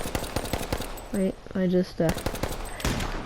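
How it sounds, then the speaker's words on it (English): Rapid gunfire from a starting pistol in the video game H1Z1 on PS4 cracks in quick repeated bursts, loud and close, with someone speaking briefly between the shots. "This is a starting pistol now because they added that."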